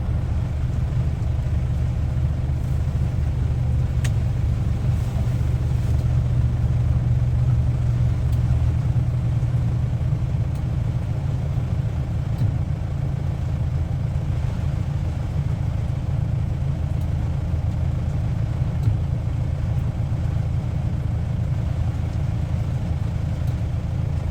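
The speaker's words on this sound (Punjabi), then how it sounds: "ਲੋ ਕਿੰਨਾ ਟਰੈਕਟਰ ਦਬ ਜਾਂਦਾ ਵਿੱਚ ਨੂੰ" A tractor engine works steadily in a muddy, rain-flooded paddy field during puddling, its low rumbling drone running continuously and loud without a break.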